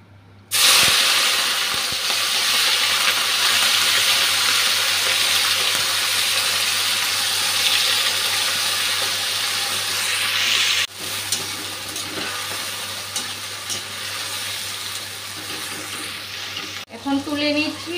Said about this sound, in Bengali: তেলটা গরম হয়ে গেছে, নুন হলুদ মেখে মাছটা ভেজে নিচ্ছি।